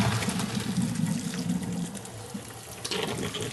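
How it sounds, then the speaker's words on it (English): Cold tap water running over cooked vegetables in a colander in a kitchen, a loud, steady gushing splash that drums on the vegetables and carries on throughout with no talk. "you've got your cold water running over your veggies"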